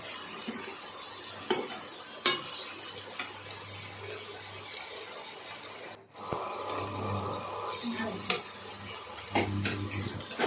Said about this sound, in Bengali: তারপর তার মধ্যে টমেটোগুলো দিলাম টমেটো দিয়ে ভালো করে ভাজলাম